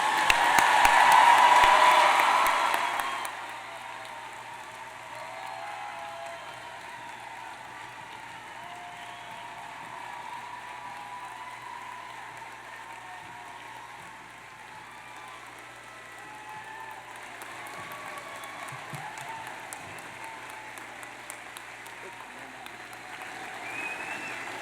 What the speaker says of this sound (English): Please give these graduates a round of applause.